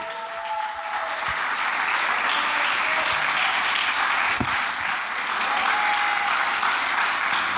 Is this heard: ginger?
no